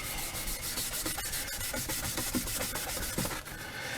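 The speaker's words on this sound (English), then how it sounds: "I just dunk it in some acetone, the grey Scotch-Brite, and rub it" Clock brass from an anniversary clock being rubbed with a grey Scotch-Brite pad soaked in acetone, a dense continuous scrubbing hiss with quick rhythmic strokes, close and fairly loud, no talking.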